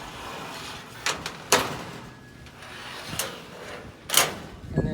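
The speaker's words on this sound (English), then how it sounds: "Slide the door." Door of an 11 by 9 foot Outsunny steel garden shed slid open in a backyard, giving several sharp metallic clunks and rattles spaced over a few seconds against quiet outdoor ambience.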